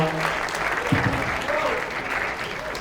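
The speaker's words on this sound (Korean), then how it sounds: "자, 박수 한번 쳐줍니다." Students clap together for a guest alumnus at a school lecture at Busan High School, a steady wash of applause filling the hall, with faint voices heard underneath.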